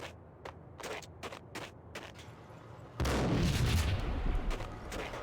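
A grenade blast in the video game Max Payne: a sudden loud, broad explosion bursts in midway and rumbles on, preceded by a series of sharp, sparse gunshot-like cracks.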